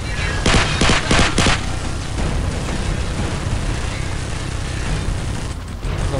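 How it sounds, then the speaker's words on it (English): Heavy gunfire from a fortified position erupts in Call of Duty Modern Warfare, with a few loud rapid bursts up front followed by a sustained roar of explosions and shooting that stays dense and loud throughout. "we are taking heavy fire from a fortified position on the fifth floor"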